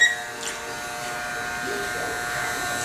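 Electric clippers buzz steadily at close range as they shave hair off the back of the head during a high and tight military cut, a continuous even drone with faint voices underneath.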